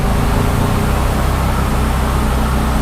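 The engine of a Daihatsu Mira idles steadily just after being started from cold, having sat parked for five months. It makes a loud, constant drone and rumble with no distinct revs.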